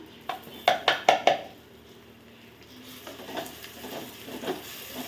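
Dried fish pieces frying in oil, with a quick run of four sharp utensil knocks against the pan early on, then a soft, steady sizzle and light stirring scrapes.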